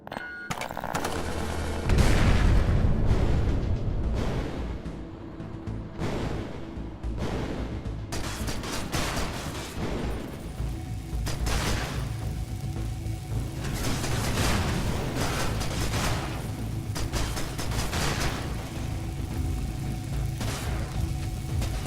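A smart gun firing in the video game Cryptark, repeated heavy shots and booming impacts spread across the whole stretch over a dense rumbling game soundscape, with no one talking.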